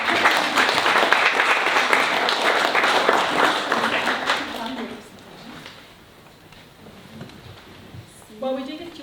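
Audience clapping to welcome someone of the Heritage Seed Library, a full round of applause for about five seconds that fades away, then quiet room tone and a voice starting to speak near the end.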